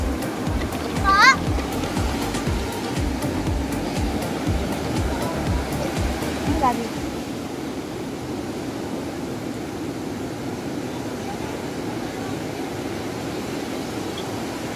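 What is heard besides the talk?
waterfall rushing water at Bataan beach resort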